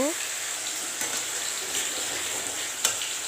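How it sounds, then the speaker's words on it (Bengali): Onion paste frying in a pan for a yogurt fish curry (doi katla), a steady hiss of sizzling with occasional scrapes and light clinks from stirring. "এইভাবে পেঁয়াজ বেসটাকে ভেজে নিচ্ছি"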